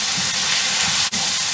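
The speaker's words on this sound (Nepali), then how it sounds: "मसलालाई भुट्नु पर्छ" Masala of chili powder and paste frying in a pan for a spinach-fenugreek curry, heard as a steady, close broadband sizzle and hiss with no talk.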